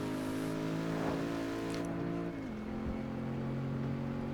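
A modded car in Test Drive Unlimited 2 drones with a steady engine note taken from the Mustang V6 Premium sound, which drops in pitch partway through as the car eases off.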